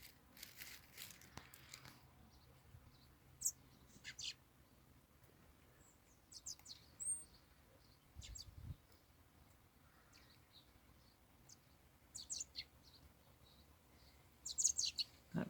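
Small garden birds, including a baby blackbird, chirp and tweet in short scattered bursts outdoors near strawberry plants, faint to moderate with quiet gaps and an insect-like buzz, no talking.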